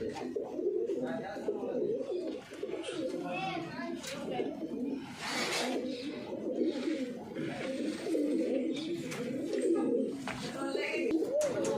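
A large white pigeon in a loft coos with soft, repeated throaty calls close by, with other pigeons joining in and brief stretches of nearby talk.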